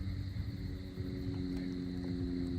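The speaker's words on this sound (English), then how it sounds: "that's an airplane. It's like buzzing around." A distant airplane engine drones steadily overhead on a clear night over dry State Game Land No. 3 in Pennsylvania, a low continuous hum with faint insect tones, no talk.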